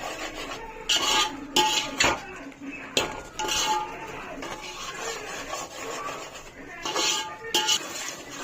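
A spoon stirs and scrapes curd and masala in a metal pan while cooking Ambur chicken biryani, giving irregular clanks, scrapes and metallic knocks close up.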